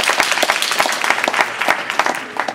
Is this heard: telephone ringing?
no